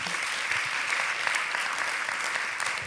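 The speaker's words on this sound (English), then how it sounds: "Please give a warm applause for Bibi Dumon Tak." Warm audience applause at a film festival conversation event, a steady dense wash of many hands clapping that stays even and full throughout.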